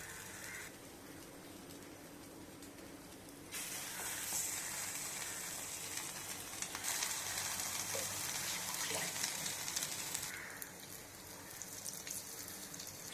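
Bread slices dipped in batter frying in a hot pan, a steady crackling sizzle that swells louder midway and stays broad and continuous.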